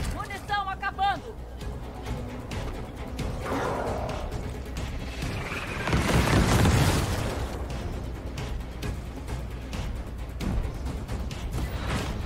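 Explosions in the Gears Tactics video game burst out as a loud boom with a crashing swell in the middle, set among gunfire and game effects while players talk throughout.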